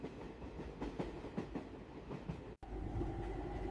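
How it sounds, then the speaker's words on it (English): A passenger train rolls along the rails past fields, giving a steady low rumble with rhythmic clickety-clack wheel beats, heard from inside a carriage by the window. A brief dropout comes near the end before the rumble resumes. "The train is moving."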